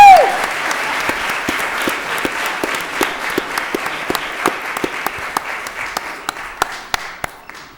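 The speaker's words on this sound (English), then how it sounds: "how about another round of applause for these youngsters as they're leaving City Hall?" An audience applauds youngsters leaving City Hall at a school committee meeting, steady clapping that thins over several seconds until a few distinct, sharp individual claps ring out near the microphone toward the end.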